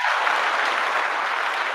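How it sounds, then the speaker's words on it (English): Brief burst of audience applause for Floyd Mayweather, a fairly even wash of clapping at moderate level that does not noticeably fade. "can I get a round of applause for Floyd Mayweather?"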